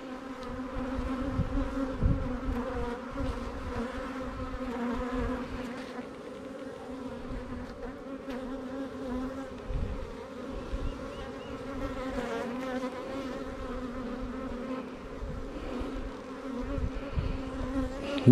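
Dense, steady buzzing of many honey bees at a hive producing red honey, close and continuous, with a low humming drone throughout and no voices.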